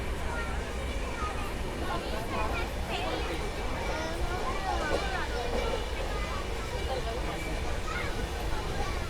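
The Jallianwala Bagh Express rolls along between Jalandhar and Delhi, a continuous broad rumble and rattle of the moving train heard from inside, steady and fairly loud throughout, with someone talking over it.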